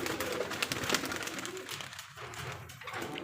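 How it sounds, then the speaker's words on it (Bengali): Giribaj highflyer pigeons coo at a breeding farm, soft, low calls rising and falling under a steady background of other farm noise. "আরও অনেক কবুতর আছে।"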